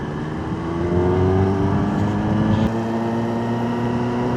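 A Kawasaki motorcycle loaded for a cross-country trip rides along with a loud steady engine drone, and a brief dip suggests a quick gear change partway through. Nobody speaks.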